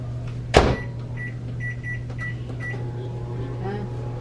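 A microwave oven heating lemon curd hums steadily after its door shuts with a firm thud, with a few faint beeps near the start and a voice speaking briefly over the running drone.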